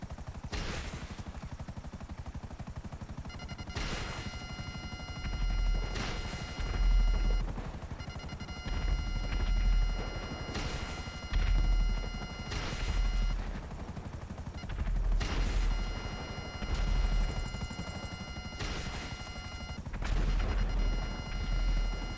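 Gunfire from a helicopter in the video game GTA V, with repeated heavy bursts roughly every two to three seconds over a steady mechanical drone, loud and sustained across the whole stretch.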